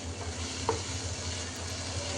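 Carrots, onions and capsicum are stirred and fried in a pan, giving a steady soft sizzle with a faint scrape of stirring.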